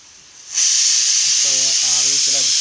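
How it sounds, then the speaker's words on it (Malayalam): A pressure cooker cooking raw banana releases a loud, steady hiss of steam that starts suddenly and holds, while a short musical hum or voice sounds faintly beneath it. "ഒരു വിസിലും കൂടി അടിക്കാൻ വേണ്ടി വെയിറ്റ് ചെയ്യാണ്"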